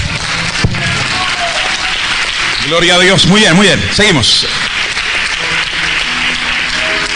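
A church congregation applauding the Lord during a sermon: loud, sustained clapping throughout, with someone speaking over it and a brief swell of voices in the middle.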